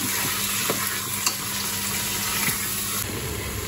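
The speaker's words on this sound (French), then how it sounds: "Je vais déjà mettre les aliments à rissoler." Food pieces browning in a hot pan hiss with a steady, close sizzle, with occasional soft clicks from stirring.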